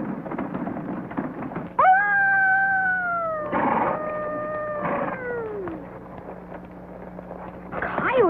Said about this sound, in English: Coyotes never howl in the daytime.